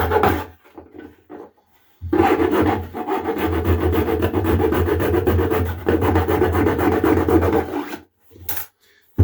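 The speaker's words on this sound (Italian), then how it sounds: "adesso con una lama di seghetto andrò a completare" A hacksaw blade cuts through a plastic object by hand, making rough, rasping back-and-forth strokes, sustained and fairly loud, with a short pause before a final few strokes.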